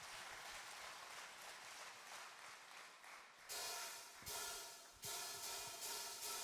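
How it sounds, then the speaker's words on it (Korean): A congregation at an evening church youth service breaks into applause, a dense wash of clapping that swells and surges in waves and rises again for several seconds in a large room. "자, 박수합시다."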